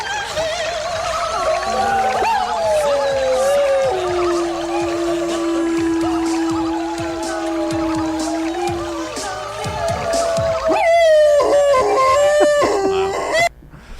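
A homemade recording imitating dogs howling along to a musical, with long sustained wavering howls and tonal wails over a continuous music-like bed, loud and unbroken, ending in a brief cluttered burst.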